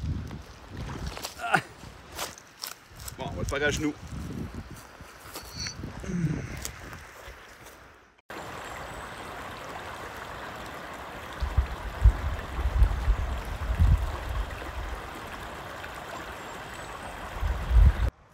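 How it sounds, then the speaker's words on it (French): A river flows past the bank on a wilderness trek. Someone speaks first, then a steady rushing of water takes over and continues evenly, with occasional low bumps from wind or handling of the microphone. "On est bien ici sur le bord de la rivière."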